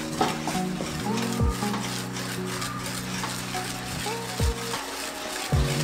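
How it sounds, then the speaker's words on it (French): Pouding chômeur batter mixed continuously while flour and milk are poured in, a steady whisking and scraping in a bowl under a constant sizzling hiss, with occasional knocks and background tones. "pendant que tu vas continuer de mélanger, je vais verser petit à petit la farine et le lait"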